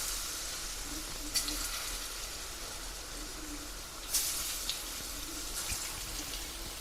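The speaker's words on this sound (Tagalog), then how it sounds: "Prito lang natin to ng saglit." Banana slices fry in hot oil in a pan, giving a soft, steady sizzle with a few brief crackles and pops throughout, heard close but quietly.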